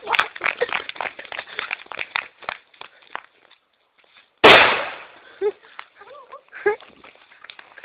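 A firecracker bomb bursts inside a termite mound outdoors with one sharp, loud bang midway, its noise trailing off over a second, between bits of people talking and moving about nearby.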